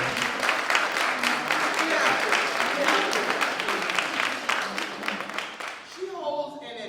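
An audience claps for a poet and veteran New York City high school English teacher at a poetry performance event, dense clapping that fades toward the end as the applause dies down.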